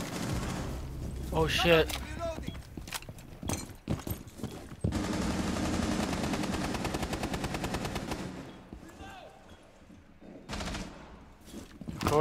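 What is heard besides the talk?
gunfire in video game Rainbow Six Siege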